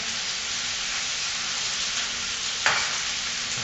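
Sliced onion sautéing in a pan, a steady close sizzle and hiss with a brief louder burst near the end as the food is stirred or moved.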